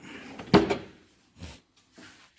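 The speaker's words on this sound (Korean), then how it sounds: "그리고 공구를 모아놓을 수 있게 간단한 연장이 들어갈 수 있는 이런 서랍으로" A drawer in a wood-frame house carpenter's workshop bench, built to hold small hand tools, slides with one loud close knock followed by two fainter sliding thumps, near and without talk.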